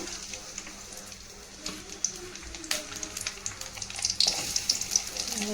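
Onions frying in a little oil in a pan, a soft steady sizzle with scattered crackles and a few sharper spits toward the end, close by and fairly quiet.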